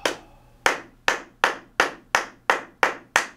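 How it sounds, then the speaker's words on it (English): Hands clap nine times at an even, moderate pace, each clap sharp and close, with a faint hum in the background and no talking. "And then clap."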